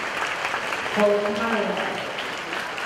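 An audience claps at a horse show after a stallion's presentation, a sustained wash of applause beneath an announcer's voice speaking over it.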